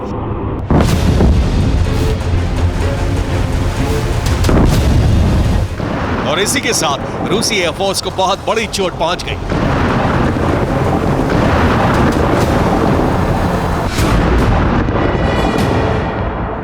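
Loud booming blasts and rumbling detonations from drone strikes on an airbase, with wind buffeting the microphone, while someone talks over them.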